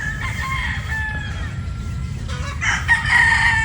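A gamefowl broodstag, a 3/4 Sweater 1/4 Boston cross, crows loudly and close by, one drawn-out cock-a-doodle-doo over a low farmyard hum, with no talking.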